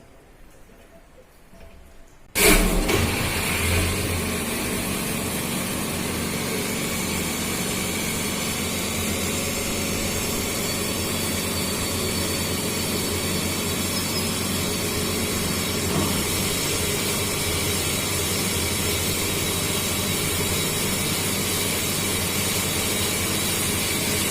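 A Pelton wheel turbine in a lab experiment starts up with a sudden surge, then runs as a continuous loud rushing, humming roar of water jets and spinning wheel, steady throughout with no talk.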